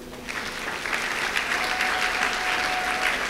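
A church congregation applauds the Lord in one sustained burst of steady clapping that fills the room for several seconds, with no speech over it.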